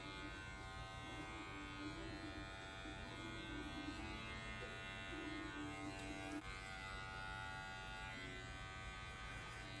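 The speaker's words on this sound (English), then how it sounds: "we have some clipper over comb work just to kind of help transition into the top" Electric hair clippers doing clipper-over-comb work on a brush wave haircut, a steady close buzzing hum with slight changes in pitch as the blade moves through the hair, no talk.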